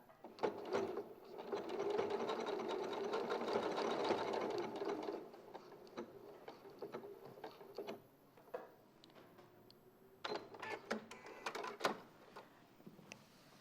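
A sewing machine runs a locking stitch, a steady rapid mechanical whir for several seconds, then stops and restarts in shorter bursts with clicks and handling noises, fairly faint and close.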